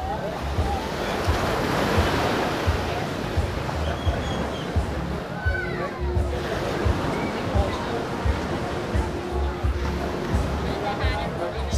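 Steady rolling surf on a resort beach, a continuous loud wash of breaking waves with wind rumbling against the microphone and voices talking over it.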